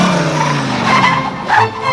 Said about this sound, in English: here's a clip of us destroying a Mercedes 300D